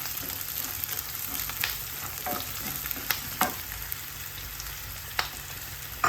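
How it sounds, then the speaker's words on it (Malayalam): Curry leaves and chopped shallots fry in hot oil for an okra curry, a constant close sizzle with scattered crackles and a few stirring scrapes, no talk. "കറിവേപ്പില ഇട്ട് കൊടുത്തിട്ടുണ്ട് എന്നിട്ട് കൊച്ചുള്ളി അരിഞ്ഞില്ലേ അത് ഇട്ട് കൊടുത്തു"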